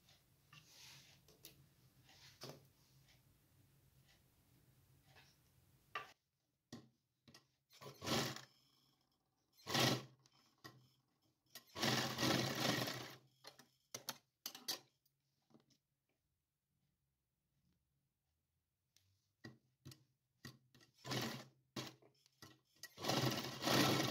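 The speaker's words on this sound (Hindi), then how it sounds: "तो दोनों साइड इस तरीके से सिलाई लगा लेती हैं" A sewing machine stitches the side seams of small winter night pants for a Laddu Gopal deity doll, running in short separate bursts with pauses of near silence between them and no talk.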